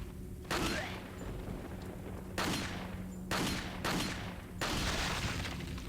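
Video game gunfire in Resident Evil 4 Wii Edition: five loud booming shots spaced unevenly, each with a long, echoing decay, over a low ambient game drone.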